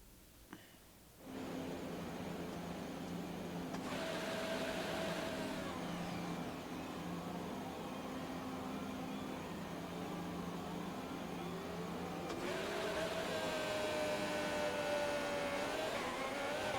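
An F1 car's engine in the F1 2020 racing game holds a steady high whine on a practice start, with pitch shifts as revs climb, running loud and continuous after a short quiet opening.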